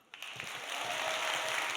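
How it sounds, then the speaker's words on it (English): Conference audience applauding at a Microsoft Fabric community event in Europe, a broad steady wash of clapping that swells in after a brief quiet start and holds at moderate level. "So please, a round of applause if this is your first Power Hour ever"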